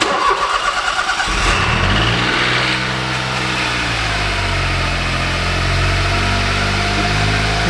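A Smart car engine cranks with a rapid chugging starter, catches, and settles into a loud, steady idle close by, with no talk over it.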